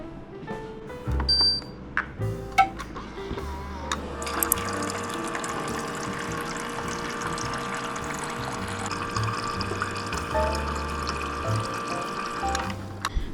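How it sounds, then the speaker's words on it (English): A water bottle fills from a tap or dispenser at home before a grocery trip, with a steady pouring rush lasting several seconds, preceded and followed by clicks and handling knocks. "Let's fill up the bottle before we go."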